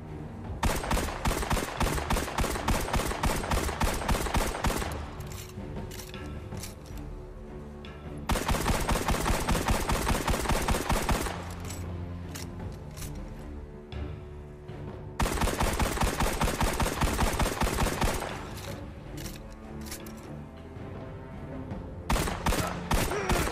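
Rapid gunfire from the Jabberhakke D sidearm in Destiny: Rise of Iron comes in loud bursts of quick, evenly spaced shots lasting several seconds, separated by quieter pauses with scattered single shots and clatter.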